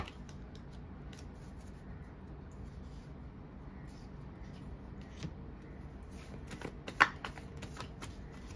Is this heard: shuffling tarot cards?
yes